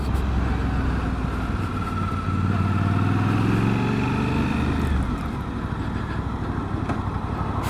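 A 2023 Suzuki V-Strom 800DE adventure motorcycle is ridden, its engine droning loud and steady with a rising then easing pitch as it accelerates and settles, wind rushing underneath and no talk.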